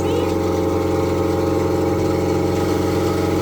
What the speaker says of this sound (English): as you can see, the car is running